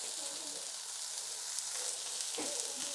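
Ground dried shrimp, headed for a Bengali shrimp mash, sizzles in a hot pan. A dense, steady hiss of frying runs close and constant, with a faint stirring shuffle near the end.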